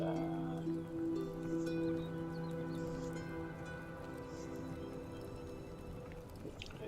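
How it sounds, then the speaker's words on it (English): Steady rain falls in the video game Enshrouded, a dense, even hiss of drops running through the whole stretch alongside low sustained ambient tones, with no talking. "the rain puts out the torches"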